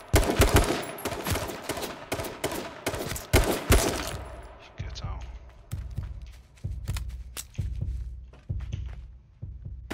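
Rapid gunfire in the H1Z1 battle royale game, a dense volley of loud shots at first, then separated single heavy thumps spaced about a second apart, with a player talking over the action.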